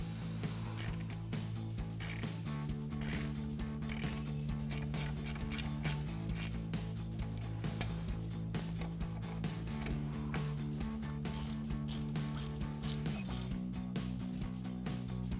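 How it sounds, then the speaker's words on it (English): A ratchet fitted with a Phillips head bit ticks in fast continuous clicks while driving screws during a Jeep Wrangler JL soft top install, close and steady with no talk. "now I'm just going to switch over to a Phillips head bit on a ratchet"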